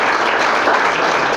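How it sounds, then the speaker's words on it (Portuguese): A church congregation applauds during a sermon, a dense, loud, continuous roar of many hands clapping together, with no individual claps standing out. "Pode aplaudir o Senhor Jesus."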